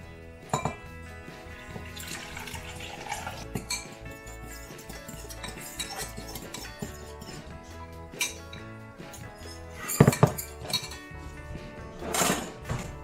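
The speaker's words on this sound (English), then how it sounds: "We're going to go ahead and put the liquids in with the solids, mix them up" Jerky marinade liquids being mixed into the solids in a bowl, with repeated clinks and scrapes of a utensil against the dish, louder knocks near ten and twelve seconds, and steady background music running underneath.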